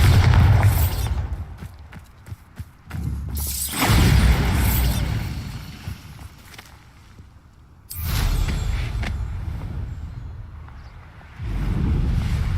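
Heavy booming blasts from the Bombarda spell in Hogwarts Legacy, three loud explosions with rumbling debris that fades into quieter stretches between them.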